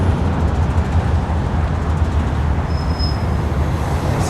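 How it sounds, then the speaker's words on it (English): A 54 Lawrence East city bus in Toronto's Scarborough, Wexford Heights area, gives a loud, steady engine rumble and road roar that fills the whole stretch up close, with no one talking. "These 54 Lawrence East buses terminate at Eglinton Station."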